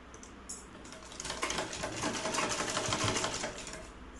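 A sewing machine runs a continuous stitch along a blouse hem, a close, busy mechanical rattle that builds slightly and holds steady throughout.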